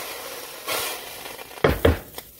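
Meatballs sizzle steadily in a pan started on high heat, and a few sharp clanks of a utensil against the cookware come near the end.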